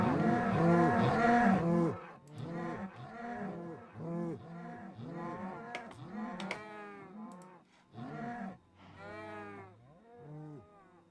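Several cows in a modded Minecraft game moo over and over, overlapping low drawn-out calls that fill the scene, with keyboard clicks and someone talking underneath.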